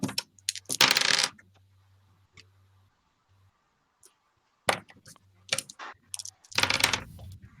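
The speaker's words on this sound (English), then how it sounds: "Dice rolling sounds are always beautiful." Dice roll across a table during a tabletop role-playing game session, in two bursts of hard clattering clicks separated by a quiet stretch with faint background hum.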